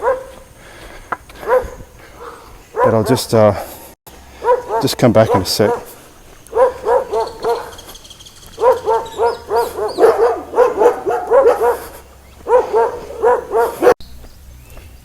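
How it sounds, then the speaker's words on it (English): A dog barks repeatedly at a man on a morning walk in Costa Rica, its sharp yaps running in bursts close by while he keeps talking over them. "there's a fuckwit dog wagging his tail and barking at me"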